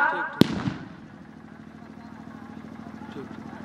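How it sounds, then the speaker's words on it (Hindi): Firecrackers go off at a cricket stadium with one sharp, loud bang near the start, then a continuous crowd rumble and distant crackle underneath, with a commentator talking over it. "एनसीसी स्टेडियम पर पटाखे की आवाज गूंज रही है,"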